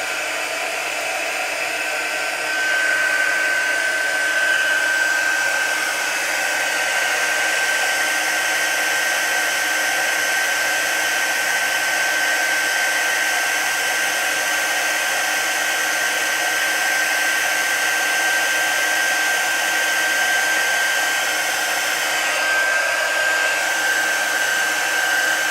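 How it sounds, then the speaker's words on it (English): Heat gun warming up while making a greeting card, a loud steady blowing roar with a thin high whine held throughout, running alone. "Now I'm just going to warm the heat gun up, so it'll be a bit noisy"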